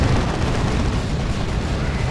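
Grenade explosions in Dawn of War 2, a Warhammer 40K strategy game, form a dense, continuous wall of booming blasts and rumble throughout a 3v3 battle, loud and unbroken with no distinct gaps.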